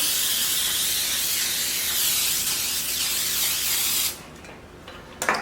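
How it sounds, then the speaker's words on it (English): A steady aerosol hiss of baking spray onto a baking sheet running for about four seconds, then stopping, followed by a quieter short burst near the end. "I'm just going to spray my baking sheet with the Baker's Joy"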